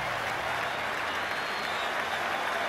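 A crowd applauds a governor's segregation speech with a dense, unbroken roar of clapping and cheering that holds at a steady, loud level throughout.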